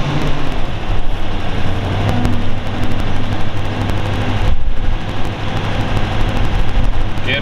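A 1935 Auburn Model 851 rumble seat convertible engine runs steadily in first gear, a continuous low rumble with rough, rattling texture throughout, close and fairly loud, with a brief dip midway.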